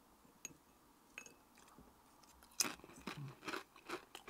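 Faint clicks and scrapes, then a burst of loud, close crunching bites on crisp homemade cheesy tortilla chips, several crunches in quick succession with no talking.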